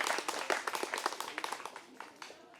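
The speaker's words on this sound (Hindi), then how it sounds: "देखिए जोरदार तालियां भी बज रही है यहाँ पे" Loud, fast clapping from a group of people at a job training centre, a steady crowd applause with sharp individual claps standing out throughout.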